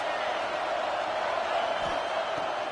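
A roaring crowd at a college football video game matchup of Penn State against Clemson on a big third down, a steady, dense wash of cheering noise that holds level throughout without any clear voices.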